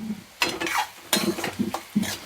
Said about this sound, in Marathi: सगळं मिक्स करून एकजीव करून घ्यायचं सगळं व्यवस्थित